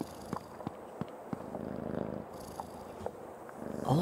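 A cat purrs softly in the Creepy Tale 2 video game, a faint, continuous rumbling with scattered light clicks and taps around it.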